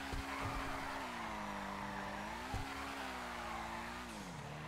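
A drift car in GTA Online sliding with sustained tire squeal, the engine note rising and falling over a steady skid, loud and close with no talking.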